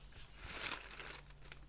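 Paper prompt cards for a mini art journal are shuffled, giving soft crinkling and rustling that swells briefly and then fades, close and quiet.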